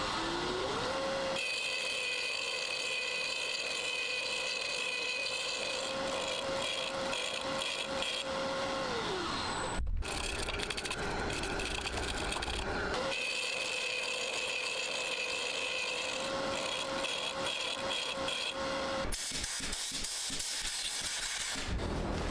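A wooden box lid is threaded using a Hope jig, a steady whine of a running tool with a droning tone that pauses briefly, then resumes, cutting noise layered over it, no talk.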